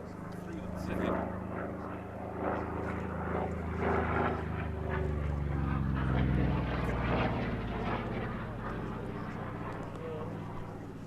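Vought Corsair fighter plane flying at the Duxford air show, a steady loud propeller-engine drone with rising and falling pitch as it passes, under continuous narration by a man.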